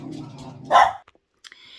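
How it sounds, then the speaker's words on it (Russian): A small dog lets out one sharp, loud bark close by, following a stretch of low background sound, then falls quiet with a few faint clicks after. "собачонка расстроилась что это и начала лаять"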